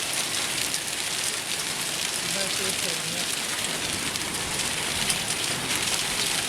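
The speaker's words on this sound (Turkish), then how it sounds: "Aha dolu yağıyor." Hail drums steadily on a Renault Clio car during a drive between Sarıkamış and Doğubeyazıt, a dense continuous patter with someone speaking briefly under it.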